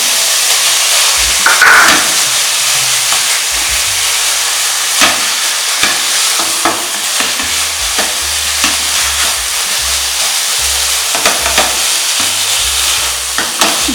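Khoa being stirred into beetroot halwa as it fries, with a steady sizzle and hiss throughout and repeated scraping stirs of the spoon against the pan, close and fairly loud.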